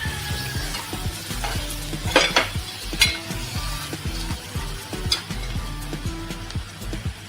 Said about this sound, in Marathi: आता आपण याच्यात पहिली टाकणार ही आपली कोलंबी मॅरिनेट केलेली मिक्स करून घेऊया